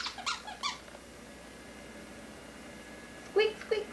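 Several short, high-pitched squeaks pop up near the start and again near the end, separated by quiet, like a squeaky toy pressed in quick bursts, heard close and clear.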